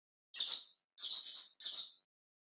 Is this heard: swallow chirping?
yes